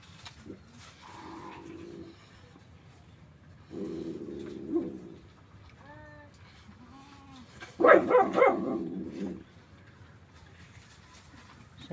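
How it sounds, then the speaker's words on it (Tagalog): Dogs bark in a rural yard after typhoon damage, several bursts of barking separated by pauses, with one louder, close cluster near the end and some bird-like calls between. "tahol ng mga aso namin."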